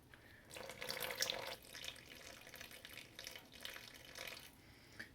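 Water pours steadily as 250 grams is measured out for a baking poolish, a soft continuous stream that swells early and then eases, with no talking.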